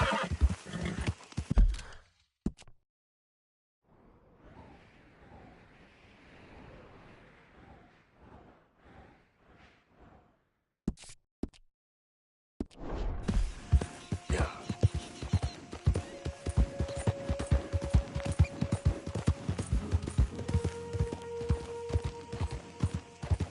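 A horse in the Red Dead Redemption 2 video game neighs and snorts, with clip-clopping hooves over outdoor ambience, mixed with game sound effects and a pause of near silence partway through.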